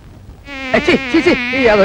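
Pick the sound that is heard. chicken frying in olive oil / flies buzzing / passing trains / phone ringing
flies buzzing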